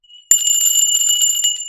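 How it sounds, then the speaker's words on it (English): Small tinkly bells ring in a bright, shimmering jingle that starts abruptly and continues steadily, close and fairly loud, with no talking. "I didn't even get my tinkly bells down yet this morning."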